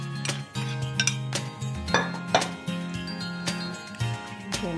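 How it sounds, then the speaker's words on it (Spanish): Diced potato, carrot and peas are stirred in a bowl, giving repeated clinks and scrapes of a utensil against the dish in an irregular rhythm, close and fairly clear, with faint voice in the background. "en un bol, vamos a mezclar la papa"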